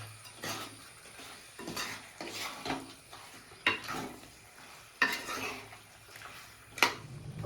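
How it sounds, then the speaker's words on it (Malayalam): Duck roast masala being stirred in a pan for a Kuttanadan Kerala-style dish: a series of scraping, clattering spoon strokes at an uneven rhythm over a soft background sizzle, no voices. "നമുക്ക് നന്നായിട്ട് ഇളക്കി റെഡിയാക്കി എടുക്കാം കേട്ടോ"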